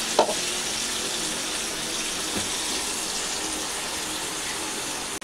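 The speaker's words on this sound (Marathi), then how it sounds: "आता याच्यात थोडं पाणी टाकूया आपण" Water is poured into sambar masala in a cooking pot, making a steady, continuous rushing splash that lasts several seconds without a break.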